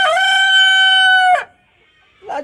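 A rooster crows loudly and close by in a coop with hens, one long sustained cock-a-doodle-doo that stops abruptly, followed by quiet and then a brief soft cluck.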